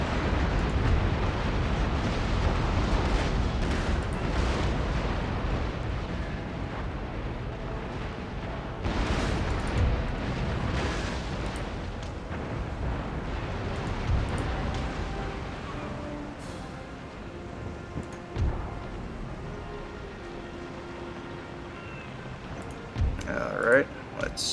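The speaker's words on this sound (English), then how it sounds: "Let's just broadside this ship." Broadside cannon fire from warships in the naval strategy game Empire: Total War, heard as a continuous rumbling barrage of booms with several louder bursts, mixed with low wind-like noise under speech.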